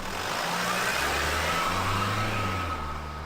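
In a visual novel, a delivery truck pulls away with a steady mid-pitched engine drone that rises slightly as it accelerates, loud and continuous, with no voices.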